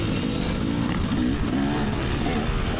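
A 2024 KTM 300 SX two-stroke dirt bike rides at Albany MX Park, its engine buzzing loud and steady throughout with slight rises in pitch, close and continuous, with no talk.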